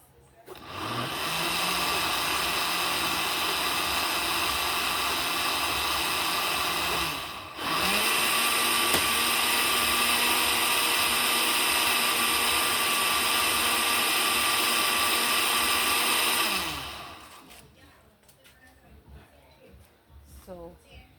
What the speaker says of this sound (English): I think I'm gonna give it some more minutes in the blender